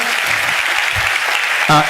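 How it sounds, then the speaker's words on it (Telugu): A church congregation claps in praise, a dense steady burst of many hands nearby, with a voice rising briefly at the end. "చప్పట్లు కొడుతూ దేవునికి స్తోత్రాలు చెప్దాం"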